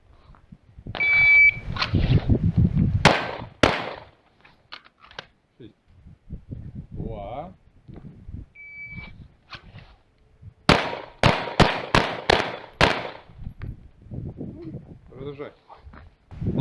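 At shooting practice, a beep sounds, then two sharp gunshots ring out. After talking and a second beep, a rapid string of about six shots follows in quick succession.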